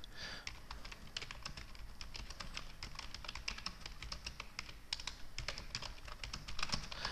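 Quick typing on a computer keyboard, a close, steady patter of light key clicks running throughout at a quiet level with no talking.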